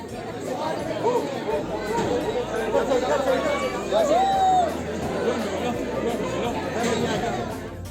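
Crowd chatter in the queue for the Gulmarg gondola ride in Kashmir: a dense, steady babble of many voices close by, with no single speaker standing out and no pauses.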